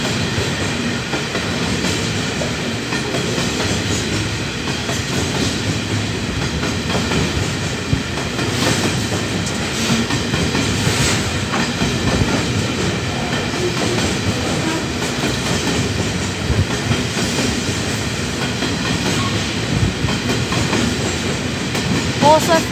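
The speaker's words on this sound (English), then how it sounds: "Second locomotive NR67. And that has, like last time, 3 NHJF coal hoppers." Freight train hauling three NHJF coal hoppers behind a locomotive rolls past close by, a steady loud rumble with rhythmic wheel clatter throughout.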